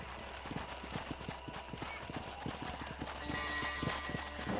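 Horse hooves clip-clopping at a brisk riding pace in the Red Dead Redemption video game, a steady rhythmic run of hoofbeats with a brief whinny, faint voices underneath.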